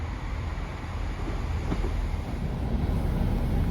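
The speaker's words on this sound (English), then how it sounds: "whilst we're waiting for this train to leave Leamington Spa" A train sits at Leamington Spa station, giving a steady low rumble of idling engine and wagon noise, moderately loud and continuous with no voices.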